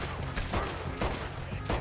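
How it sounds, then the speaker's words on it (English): Rapid gunfire rattles in Red Dead Redemption 2 during a frontier shootout, with repeated loud bursts of shots coming close together in a chaotic, continuous volley. "Just keep shooting till nothing moves."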